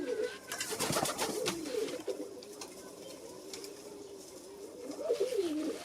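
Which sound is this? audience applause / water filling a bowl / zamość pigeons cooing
zamość pigeons cooing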